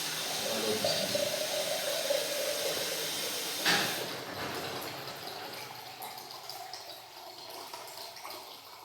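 Distilled water pours steadily in a chemistry lab with a continuous hissing rush that softens after a few seconds, with faint background noise.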